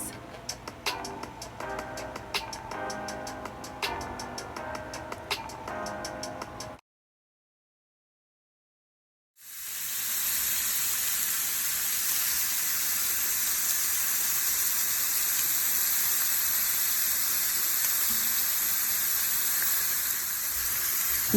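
Steaks sear in a pan, a loud, steady broadband hiss that holds through the second half, after an earlier stretch of faint ticking and a brief silent gap.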